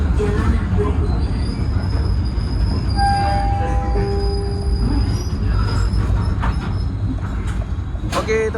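A KA Commuter Line Supas train rolls into a station, its steel wheels squealing in long high-pitched tones over a loud rumbling clatter, with faint voices underneath.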